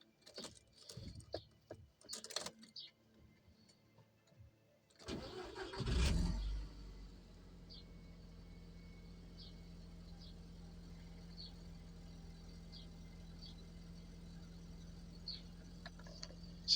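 A 2002 Audi TT MK1 225 Quattro cranks and fires after a few quiet handling noises, then settles into a steady, even idle close by with a faint recurring tick over the hum.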